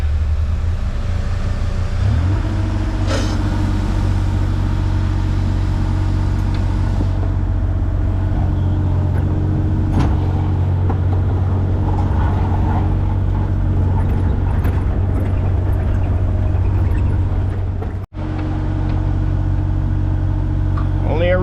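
A truck loaded with about 6 tons of soil at a remediation dig idles and then pulls away with a low, steady diesel rumble, while people talk nearby.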